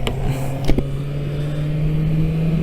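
A steady low engine hum from a Honda CB1100RS classic motorcycle being ridden, with a couple of brief clicks near the start; no voices.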